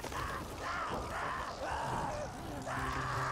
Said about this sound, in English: He's screaming in pain.